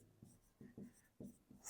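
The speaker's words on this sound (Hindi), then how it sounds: "तो हम लिखेंगे" Pen or chalk writing out an answer during a lesson, several short scratchy strokes in an uneven rhythm, close and quiet with no talk.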